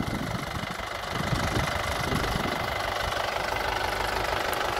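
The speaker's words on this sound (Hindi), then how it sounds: "ये आइडल साउंड भी सुन लो आप ट्रैक्टर का" A Mahindra 575 DI tractor idles in a farm field, its diesel engine giving a steady, close, knocking rumble with an even pulse and no speech over it.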